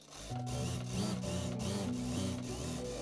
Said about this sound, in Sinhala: මම මේ විදිහට මේ මරගෙන ගිහිල්ලා සයිඩ් එකේ සිට මහන්න පටන් ගන්නවා